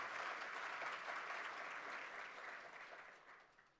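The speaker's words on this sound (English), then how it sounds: "A round of applause is indeed in order." Sustained applause from a large in-person conference audience at a green hydrogen event, a dense, steady clapping that slowly tapers off over about four seconds, heard at a fairly low level.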